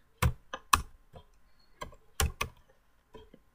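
Computer keyboard keys tapped while typing code, a few sparse, quiet clicks in short irregular bursts separated by pauses.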